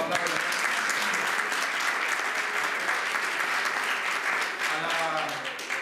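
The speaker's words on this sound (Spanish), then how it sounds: "por favor, y los aplausos." An audience at the closing session of an international meeting gives sociology and engineering students a full, sustained round of applause, with voices speaking and calling out beneath the clapping throughout.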